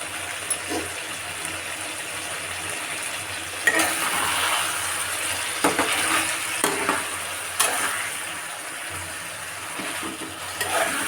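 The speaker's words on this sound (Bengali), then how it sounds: "তো এদিকে আমার চিকেনটা কষানো চলছে" Chicken being sautéed in a pan for biryani gives a continuous close sizzle, with occasional scrapes and knocks of a utensil stirring against the pot across the whole stretch, no voices present.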